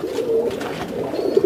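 Pigeons cooing in a crowded loft: soft, low, rolling coos overlap close by in a short continuous burst, with no talk.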